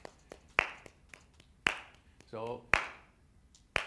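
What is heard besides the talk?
hand claps marking the beats of a song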